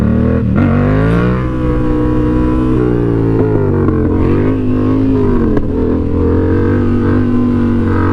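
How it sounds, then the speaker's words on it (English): A motorcycle engine revs hard and loud during a power wheelie, its pitch rising and falling as the throttle is opened, eased off and opened again. "just work on giving it throttle, let off, and then get back on it"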